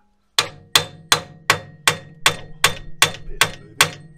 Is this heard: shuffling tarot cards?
no